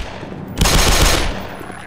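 A short burst of rapid gunfire from the shooter game Black Mesa, loud and close, fired in a quick cluster of three shots over low ambient game hum.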